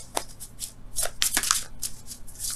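Tarot cards being shuffled in the hands, a run of quick papery riffles and flicks with short pauses between bursts, close and fairly soft, with no talking.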